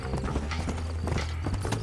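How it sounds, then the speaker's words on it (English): Horse hooves clip-clop steadily in Red Dead Redemption as a rider crosses the desert, a continuous rhythmic trot with occasional whinny-like sounds, moderately loud throughout and with no talk over it. "I'm just trying to ride around the desert on a horse with no name."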